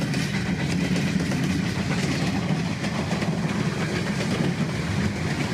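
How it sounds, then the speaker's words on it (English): Freight train hauling coal and gas out west rumbles past close by, a loud, steady roar of rolling wagons with faint clickety-clack, continuous throughout with no talking. "Well, you see trains every day when you're out west."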